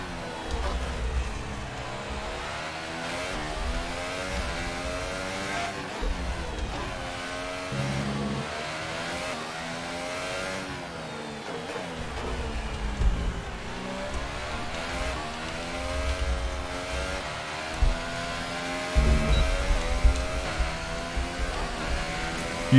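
A Formula 1 car laps the Abu Dhabi circuit in F1 2018 with a loud, high-revving engine whine that sweeps up and down through gear changes and braking zones throughout the lap.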